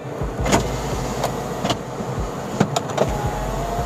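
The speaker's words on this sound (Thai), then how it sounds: "เดี๋ยวมาดูกระจกไฟฟ้านะครับ" The power windows of a black 2007 second-generation Toyota Vios automatic whir up and down inside the car, with a few short motor runs and clicks close by and no speech.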